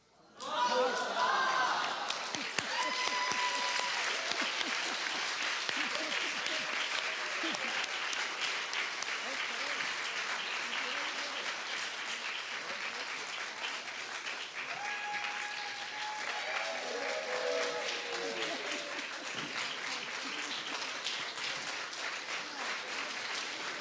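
Guests at a synagogue's first Bar Mitzvah ceremony burst into applause, a sudden loud start that settles into long steady clapping, with voices, cheers and a few scattered calls rising through the crowd.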